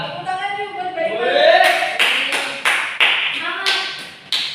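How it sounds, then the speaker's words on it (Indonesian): Children in a classroom clap together, a quick burst of ragged hand claps with sharp taps repeating through the clip while young voices chatter and call out under it. "Tepuk tangan yuk buat Mbak Ima."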